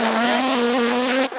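Honey bees buzzing at an opened hive during beekeeping, a close, steady droning hum that holds for the whole moment and dips briefly at the end.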